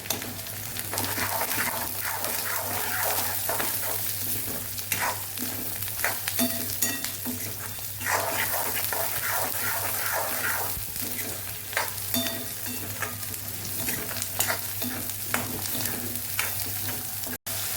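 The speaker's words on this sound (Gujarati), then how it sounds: "અહીંયા આપણે ડુંગળી અને વટાણા સતળાઈ જવા એવા છે" Onions and green peas frying in a pan for a Kathiyawadi restaurant-style cauliflower and pea curry, a dense steady sizzle broken by repeated spatula stirring and scraping, close and fairly loud, without speech.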